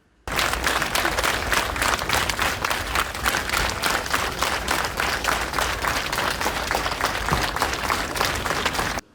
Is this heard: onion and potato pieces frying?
no